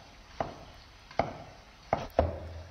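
Four sharp knife chops through green peppers on a cutting board, spaced unevenly and close, the last two coming faster, with no voices.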